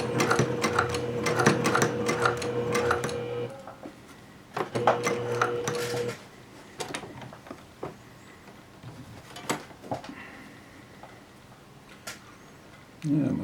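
A home sewing machine back-tacks a stress-point seam on a fabric courier bag, running in two steady mechanical bursts, stopping in between, then a scatter of small clicks and handling taps from the fabric and machine.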